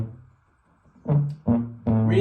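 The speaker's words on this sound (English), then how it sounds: "the tuba by itself sounds something like this" A recorded tuba plays a bass line of deep, round notes, a low sustained tone followed by three punchy attacks in a steady rhythm, close and full.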